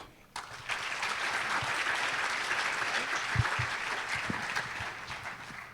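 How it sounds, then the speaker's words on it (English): Audience at a remembrance event applauding to welcome a guest speaker, a steady, even wash of clapping from a crowd that holds at a constant level throughout, with a few low thumps. "please give a round of applause"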